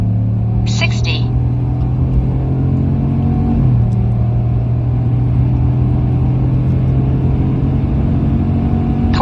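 A 2021 Chevrolet Silverado with the 5.3L V8, still without its supercharger, drones steadily under hard acceleration from a standstill. The pitch drops once partway through as it shifts, then the steady pull resumes with road rumble underneath.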